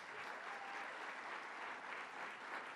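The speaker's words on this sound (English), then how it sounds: "Let's give her a round of applause." An audience applauds steadily and densely throughout, a broad even wash of clapping with no break.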